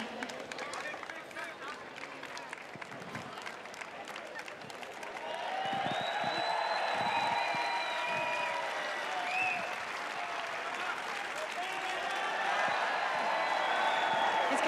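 Arena audience applauding Novak Djokovic's 700th career win in Dubai, a dense wash of clapping that swells and holds steady, with cheers and talk mixed underneath.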